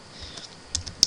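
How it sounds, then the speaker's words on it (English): A few scattered computer keyboard keystrokes click close by in a quiet room, sparse and uneven, with the last tap the sharpest. "I'm again very sorry for my typing."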